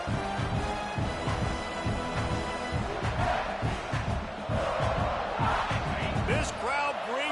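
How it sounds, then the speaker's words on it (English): A college football stadium crowd at South Carolina vs Louisville roaring and cheering continuously, with a dense, loud swell of voices and rhythmic thumps, and an announcer talking over the din. "This crowd bringing the energy and noise early."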